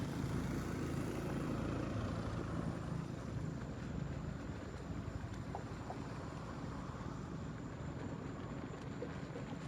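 A long-tail boat motors along a river in Vang Vieng, Laos, its engine droning steadily with constant rushing water and wind noise throughout, loud and close, with no talking.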